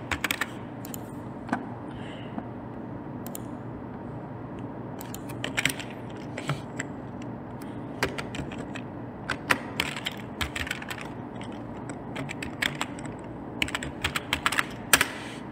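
Close, fast keystrokes on a computer keyboard as a search is typed, a steady patter of light clicks with occasional sharper louder taps, alone without speech.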